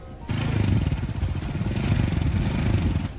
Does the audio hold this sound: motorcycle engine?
yes